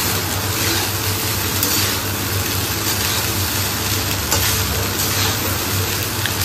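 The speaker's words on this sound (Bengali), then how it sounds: "মা বলল আজকে এরকম একটু রসুন টসুন দিয়ে ভাত ভেজে দিই" Leftover rice fries with garlic in a pan, a continuous close, steady sizzle with a faint low hum running underneath, no voices.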